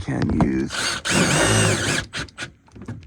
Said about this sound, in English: and then you just pop the 4 screws in. Make sure it's nice and secure.